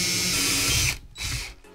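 Power drill boring a hole through a metal teaspoon, a loud close high-pitched whine that drops briefly and then returns in a short second burst.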